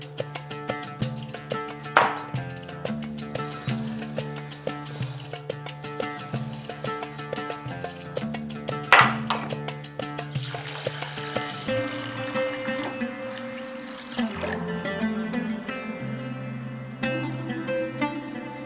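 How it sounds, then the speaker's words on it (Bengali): Basmati rice and moong dal are washed in a bowl under running water, with pouring, swishing and trickling water alongside occasional clinks, close and steady. "কয়েকবার জল পাল্টে পাল্টে এটাকে বেশ ভালো করে ধুয়ে নিয়েছি।"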